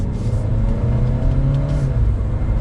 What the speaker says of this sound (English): And with a mild acceleration, it gets up.